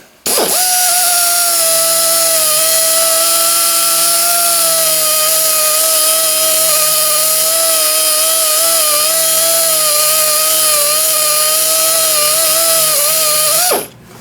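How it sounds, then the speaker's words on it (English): A power tool hums steadily and evenly for about fourteen seconds as the recess of a spalted maple segmented vase is sanded, starting and stopping abruptly. "just doing the final sanding here on the recess"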